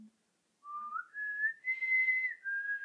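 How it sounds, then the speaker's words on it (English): A person whistles the short four-note Mockingjay tune from The Hunger Games. The whistle is clear and close, rising in pitch, then holds and dips slightly at the end. "how do you do the whistle again?"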